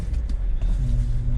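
A 1959 Ford Fairlane 500 Galaxie pulling away with its parking brake released, heard from inside as a loud, steady low engine rumble with a faint creak, close and continuous for a brief moment.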